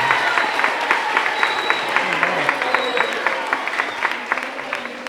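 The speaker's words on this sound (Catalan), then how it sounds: "I un aplaudiment per tots vosaltres" Applause for a children's council session in El Masnou, steady clapping from a group with distinct individual claps standing out, while a voice speaks over it.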